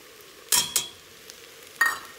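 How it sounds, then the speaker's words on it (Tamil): A spoon stirs ridge gourd with soaked moong dal in a cooking pan, giving three brief scraping clinks against the metal over a soft background hiss. "நல்லா கலந்து விட்டுருங்க"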